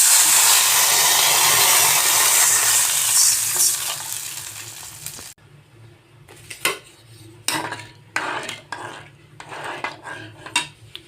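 Water poured into a hot pan of chillies and curry leaves hisses loudly for several seconds, then cuts off sharply, followed by scattered clinks and clatter of utensils.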